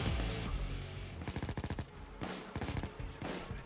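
Minigun-wielding Dozer in a co-op heist shooter on the Brooklyn 10-10 map, firing loud rapid bursts of gunfire in three sustained volleys, close and dense, with no talking.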